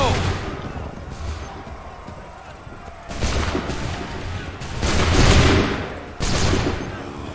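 Musket volleys crack out in Assassin's Creed III Remastered, with bursts of massed gunfire near 3, 5 and 6 seconds over a steady battlefield rumble while commands are shouted throughout.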